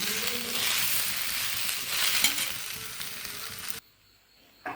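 Ripe jackfruit cooking in a pan with ghee, stirred gently: a steady close sizzle with soft scraping that runs for almost four seconds, then stops abruptly into near silence before a brief return at the end.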